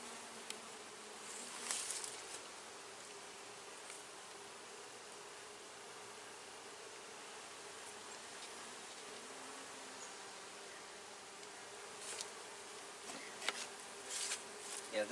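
Honeybees in a newly queened hive hum in a steady, dense drone around the open boxes during an inspection, with a few louder buzzes from bees flying close past.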